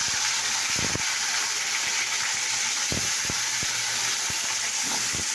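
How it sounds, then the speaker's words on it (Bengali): Pieces of fish dropped into hot oil fry with a constant broad hiss, close and fairly loud, broken by several sharp pops and spatters, no voices. "দেখো মাছের পিসগুলো আমি দিচ্ছি"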